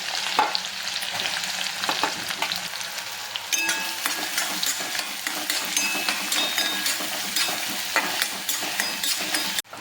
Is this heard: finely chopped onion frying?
yes